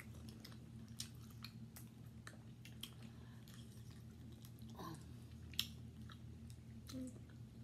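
Soft, wet chewing of deshelled lobster and prong shrimp, faint and close to the mic, broken by small scattered clicks and smacks with no talking.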